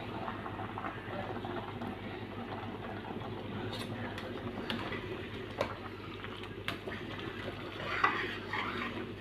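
Cooked pasta is stirred into sauce in a pan, giving soft, steady scraping and clinking of a utensil against the pan, faint and close, with occasional sharper taps and a low background hum.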